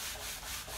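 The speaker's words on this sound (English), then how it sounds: "if I have any scratches, I'll use something like a 100 for the last sanding" Sandpaper rubs over a foam RC jet model, a Freewing 80mm A-10, in close, loud, continuous scratchy strokes with slight rhythmic swells.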